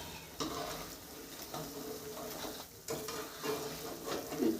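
Potato and rice pakoras fry in hot oil with a steady, soft crackle and hiss, some stirring sounds and a louder sizzle toward the end, close by and with no talk.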